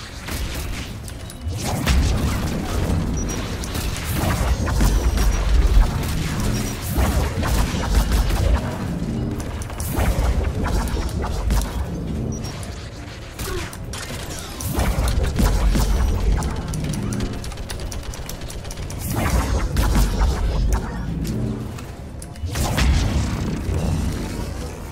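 Repeated heavy booms from cannon fire in Mass Effect Legendary Edition, with mechanical clanks and rattling between shots, spaced irregularly over continuous background noise.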